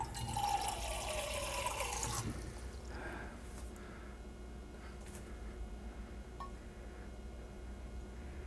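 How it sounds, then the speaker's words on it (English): Water gushes steadily into a pan of onions being caramelized for about two seconds, then stops, leaving a quiet trickle and faint room noise. "I have to add a little bit more water to that."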